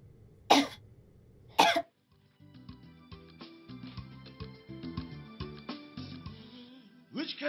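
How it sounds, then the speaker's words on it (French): Two sharp coughs from a person close by, spaced about a second apart, followed by a stretch of soft melodic music. "Pourquoi tu tousses?"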